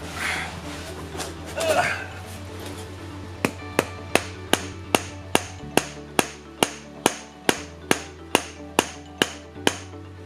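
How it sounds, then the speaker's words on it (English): Rubber hammer striking a socket on an R32 Skyline GT-R axle, a steady run of about fifteen sharp, evenly spaced knocks, close and loud, following brief talk and shuffling. "And then I tried using the rubber hammer,"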